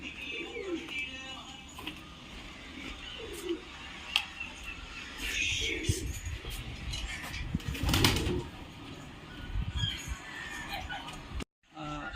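Racing homing pigeons arriving back from a 250 km race, with soft cooing and bird calls through a busy loft scene, mixed with rustling, handling noises and people talking nearby.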